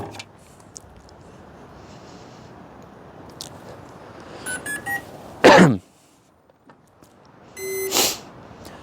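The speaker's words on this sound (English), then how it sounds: "So the drone's gonna beep a little bit," A XAG P150 agricultural drone powers on with a few short electronic beep tones, including a loud burst midway and a tonal chirp sequence near the end, over a quiet hissy background.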